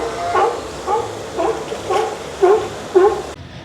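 A sea lion pup at SeaWorld San Antonio gives a series of six short, yelping barks at an even pace. The calls are close and fairly loud, with crowd murmur underneath.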